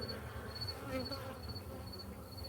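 Honeybees in an opened hive box give off a soft, steady buzzing hum that stays low and even, faint and close.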